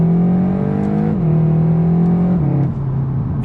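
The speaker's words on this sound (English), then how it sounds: "The exhaust as well sounds nice." Exhaust of a 350 BHP ABT-tuned Seat Leon Cupra R family estate driven hard, a loud steady drone climbing in pitch between gear changes with a faint turbo whistle, close and continuous, no talking.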